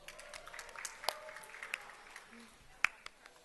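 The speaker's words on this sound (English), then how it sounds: "So if you can just give yourselves a round of applause." A conference audience gives thin, scattered applause: faint, sparse claps over a quiet room hum.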